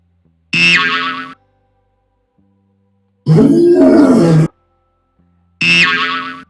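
Three separate lion roars sound in a classroom animal-sounds lesson, evenly spaced with silences between, each loud and close, the middle one longest and deepest.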